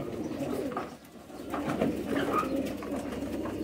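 Patiala and Kabli breed pigeons cooing close by in a steady, soft, overlapping murmur, with no talking.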